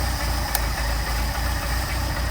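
A Mercedes 190SL engine with a Solex carburetor runs steadily near idle, a close, even low throb with regular pulsing beats and no talk.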